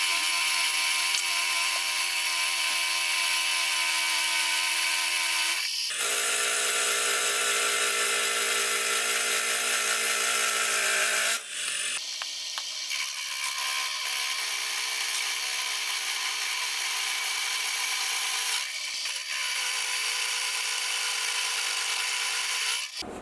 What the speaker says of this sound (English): I now need to machine in a matching dovetail